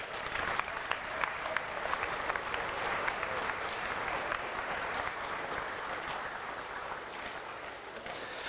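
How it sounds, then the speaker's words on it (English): Sustained applause from an audience at a speech competition, dense and steady clapping filling the room for several seconds without pause. "Another round of applause for these young men and the speeches they gave."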